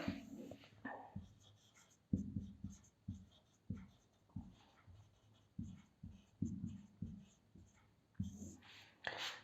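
A pen or marker writing equations by hand on a board or paper during an electrical-engineering lesson on two-port networks, with soft scratchy strokes in short repeated bursts, close and quiet.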